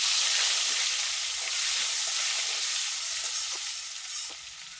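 Bay leaf and dried chilli tempering in hot oil make a loud, bright, close sizzle that holds steady with a few faint crackles and eases slightly toward the end.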